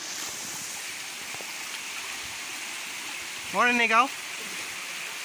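A waterfall's steady broadband rush of falling water fills the scene, constant and fairly close, with a brief spoken greeting breaking in near the end.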